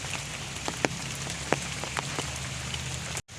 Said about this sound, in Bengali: বৃষ্টিটা এখন একটু কম হয়েছে।